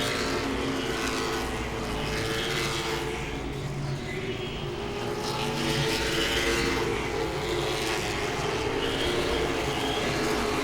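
Late model stock cars roar around Langley Speedway in a dense, sustained engine drone, several cars passing at once with swelling and fading revs, loud and continuous with no talk.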